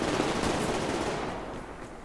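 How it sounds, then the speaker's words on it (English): Sustained automatic gunfire in the video game Survarium, a dense continuous burst heard close and loud, tapering slightly toward the end with no talk over it. "Someone's still shooting at me here."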